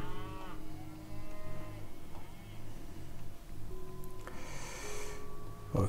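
Cows low in the video game Age of Mythology, a few drawn-out moos rising over a steady backdrop of game music and ambience, with a brief burst of other game effects near the end.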